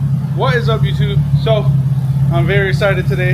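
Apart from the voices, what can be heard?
Nissan 350Z engine idling in garage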